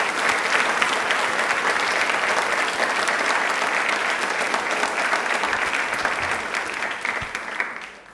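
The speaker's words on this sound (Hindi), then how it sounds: "प्लीज एक बार तालियां हो जाए जोरदार।" A steady wave of clapping from a studio audience at a televised quiz show on Indian Railways keeps up loudly for eight seconds, then eases off slightly at the end.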